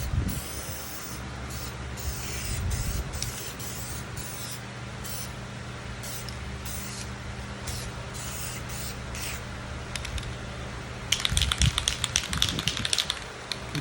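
An airbrush or spray gun applies paint or dye onto vinyl upholstery, making a steady soft hiss with short tapping pauses, then a louder burst of spraying near the end.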